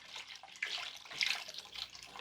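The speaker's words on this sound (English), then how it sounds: "I will add about 4 cups of chicken stock." About four cups of unsalted store-bought chicken stock pour into a stew pot for a one-pot chicken and potato stew, a steady close splashing stream that swells and ebbs.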